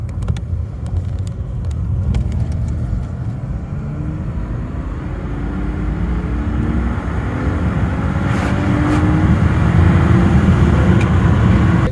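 A steady low rumble of a BMW E90 325i driving, engine and road noise droning continuously and growing slightly louder, with no voices.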